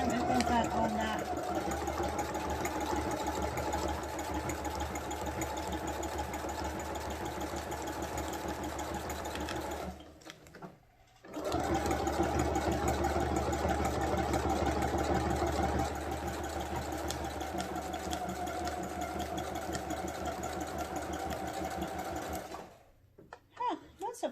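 An industrial sewing machine runs a double stitch on packaging with a fast, steady mechanical whir, stopping briefly midway and again near the end, while someone talks over it.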